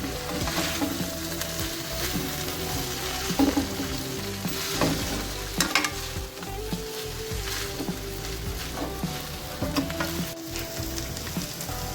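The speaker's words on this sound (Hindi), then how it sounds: "और ये बंद गोभी ऐड करेंगे। इसको हाथ चम्मच की मदद से हम मिक्स करेंगे।" Cabbage stir-frying for chicken chow mein, a steady close sizzle broken by scraping and clinking as a spoon tosses it in the pan.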